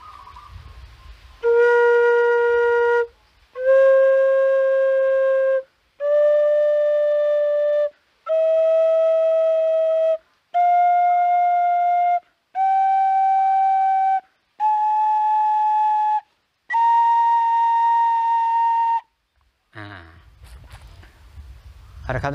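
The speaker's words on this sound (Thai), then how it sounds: "จะไล่เสียงจากโดต่ำไปโดสูงนะครับ" A scale climbs from low do to high do as eight separate sustained notes, each held about two seconds with short gaps, played on a clear whistle-like wind instrument in a music lesson, followed by a brief spoken voice.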